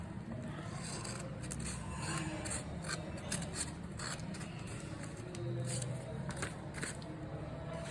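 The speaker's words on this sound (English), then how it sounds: "Now after folding it to the center, we are gonna cut it. So cut it near the fold." Scissors snip through folded paper close to the crease, a steady run of faint rasping cuts and rustles at close range, with no talking.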